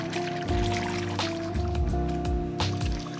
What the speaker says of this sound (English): And then I will add more coconut milk for 400